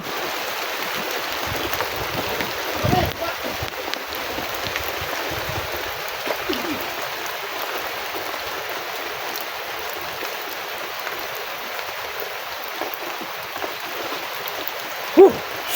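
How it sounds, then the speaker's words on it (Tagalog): Steady heavy rain hisses continuously, a dense wash of noise with a few scattered knocks and splashes. "Sobrang ulan, oy!"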